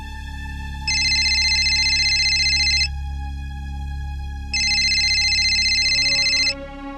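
Outgoing phone call ringback tone heard from the caller's handset: two long, loud electronic rings about two seconds each, separated by a pause, steady and close with no talking.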